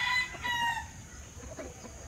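Farm chickens cluck while a rooster crows nearby, a moderately loud call followed by quieter clucking and scratchy yard noise over about two seconds.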